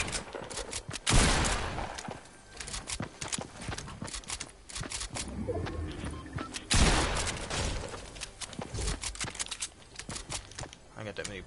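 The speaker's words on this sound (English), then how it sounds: "Pump shots, dude." Pump shotgun blasts in a shooter video game, with several heavy booming shots amid rapid gunfire, hoofbeat-like clatter and footsteps, loud and close under chatter from players.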